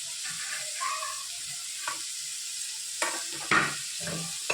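Onion, tomato and cabbage sizzle steadily in a pan as pizza topping, with intermittent stirring scrapes and clinks over the constant frying hiss, close and moderately quiet.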